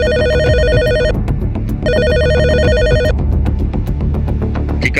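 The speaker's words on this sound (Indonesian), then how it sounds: "Tiba-tiba, suara ponsel Marco berdering." A mobile phone rings with a bright, warbling electronic ringtone in two clear, close bursts separated by a short pause, followed by a low background hum.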